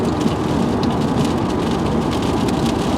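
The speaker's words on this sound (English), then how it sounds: "I was really hoping that I could avoid this rain" Steady, heavy rain pours continuously on surfaces, a dense, loud, even roar that fills the whole stretch with no breaks and no voices.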